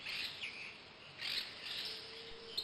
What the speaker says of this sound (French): La végétation repousse, les oiseaux et les abeilles aussi sont de retour.